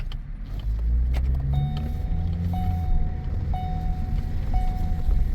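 A car's automatic transmission shifts roughly from second to third gear under a steady engine drone, while a recurring electronic chime pings at regular intervals over the road noise.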